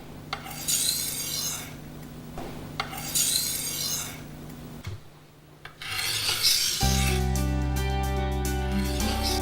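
A kitchen knife is drawn repeatedly across a Norton sharpening stone, giving rhythmic gritty scraping strokes, close and clear, with a brief pause before a steadier grinding stretch.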